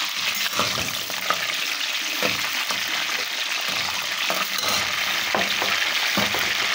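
Jaggery goes into rice frying in a pan for sweet jaggery rice, with a steady close sizzle broken by stirring scrapes and brief bursts, and no talking.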